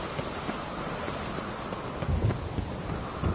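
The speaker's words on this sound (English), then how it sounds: "A storm, damn it." Steady heavy rain pours through a thunderstorm in The Witcher 3, with a dense, even hiss and a low thunder rumble swelling near the end.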